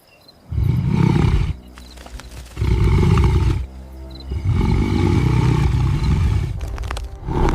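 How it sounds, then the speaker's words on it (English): A male lion roars in deep, rumbling bursts, three long loud roars separated by short grunting pauses, close and powerful with no talk. "A deep, bone-rattling roar vibrates through the earth."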